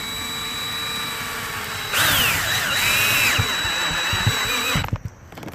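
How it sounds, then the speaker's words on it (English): A power drill bores into the top of a metal bar on a spa hot tub cover lifter, its steady motor whine rising as the bit bites and grinds through the metal for about three seconds, then stopping. "while you're drilling into the top of the bar"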